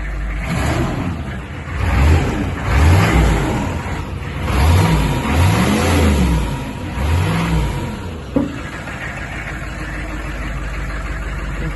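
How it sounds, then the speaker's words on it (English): A 1941 Ford truck fitted with a Chevy 6.5 turbo diesel, idling with a deep rumble and then revved several times in quick swelling pulls before settling back to idle, loud and close. "I'll let you listen to the engine."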